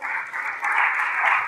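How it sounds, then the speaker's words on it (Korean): An audience at a founding general assembly claps to welcome a speaker to the podium: dense, steady applause that holds for the whole stretch and swells slightly midway. "다시 한번 박수 모실게요"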